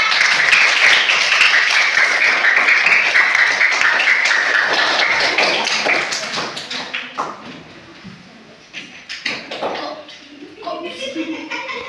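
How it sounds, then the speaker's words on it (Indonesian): Schoolchildren in a classroom clap together in a quick, dense patter for about six seconds, then the clapping thins out and a voice talks over scattered taps. "Tepuk tangan anak-anak."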